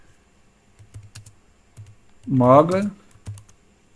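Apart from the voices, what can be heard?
typing on a computer keyboard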